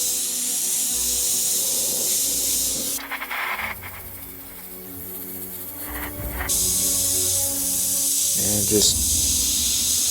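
Airbrush spraying a mix of pink and magenta paint, soft hissing bursts that start and stop in short passes, heard under a speaking voice.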